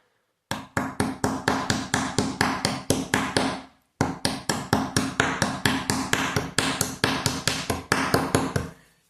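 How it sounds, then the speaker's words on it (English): Rapid, even hammer blows chip flaking edges from the cracked slate bed of an antique 5ft snooker table, a sharp ringing tap repeated several times a second in two long runs with a brief pause between, close and loud. "I need to chip those away just with a hammer"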